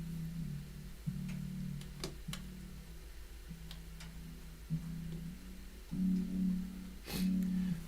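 A synth chord pad processed through the Airwindows Flutter effect holds soft, steady chords that change every second or so, with faint ticking clicks scattered through.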